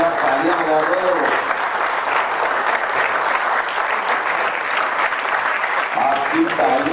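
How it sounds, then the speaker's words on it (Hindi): Sustained audience clapping fills a hall during a lifetime achievement award presentation at a theater festival, loud and steady for several seconds, with talking audible over the applause near the start and end. "और प्रदीप भाई के साथ भी खड़े हो जाइए, मेरे थोड़ा तालियां बजा दो."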